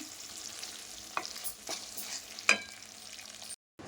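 Pasta seasoning mixture in a frying pan is stirred with a utensil, giving soft scraping and occasional clinks over a quiet, continuous sizzle, close and fairly faint.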